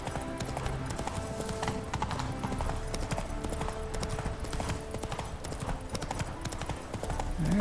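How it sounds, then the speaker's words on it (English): Horse hooves clip-clopping along a road in The Witcher 3, a steady brisk rhythm of hoofbeats heard close and continuous, with occasional game sounds underneath. "be a good horse and just follow the road like a good horse."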